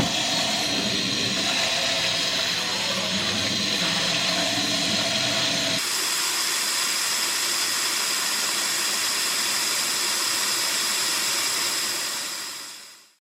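Water pours into a bucket, rushing steadily and loudly with a hollow hiss that shifts partway through before fading out at the end.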